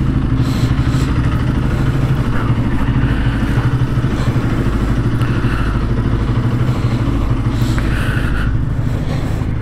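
A Bajaj Pulsar NS200 motorcycle engine runs steadily at close range, a loud continuous low rumble with a rapid pulsing beat that holds level throughout, with no talking over it.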